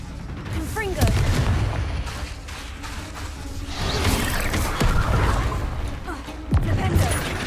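Spell blasts and impacts from combat in Hogwarts Legacy, a loud run of booming bursts and whooshes with a few sharper hits near the start, middle and end, over a dense game soundtrack.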